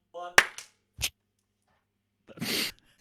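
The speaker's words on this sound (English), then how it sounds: "Right, I'm gonna clap." One sharp hand clap marks a sync point, coming right after a short voice. A couple of brief, quieter noises follow before the clip goes quiet.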